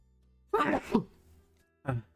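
A sudden sneeze bursts out close by, followed by a short tail and then a second brief sound, like someone clearing their throat.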